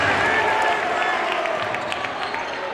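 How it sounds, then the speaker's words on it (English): Basketball arena crowd at a Kent State vs. Bowling Green college men's game, a steady dense roar of voices and scattered applause throughout, loud and continuous, with a commentator talking over it. "See the reaction from the crowd."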